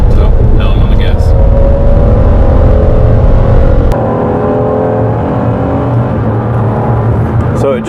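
A Ford Police Interceptor Utility in pursuit mode gives a loud, close engine rumble and whir from inside the cabin, a sharp shift partway through, with a voice speaking over it.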